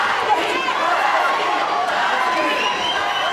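A large crowd roars and cheers steadily at a bare knuckle fight in Denver, Colorado, a dense continuous wall of voices with shouts mixed in and no clear break.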